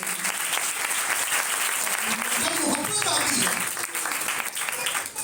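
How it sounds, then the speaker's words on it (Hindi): Church congregation applauding loudly during a sermon, a sustained, dense wash of clapping from a crowd with cheering and voices mixed in throughout. "जोरदार तालियां यीशु के नाम में।"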